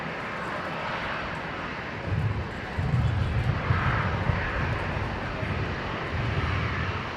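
A fixed-wing airliner takes off from runway 19 left at Brisbane Airport, its broad engine roar heard from a distance as a steady rumble that swells partway through, with no speech.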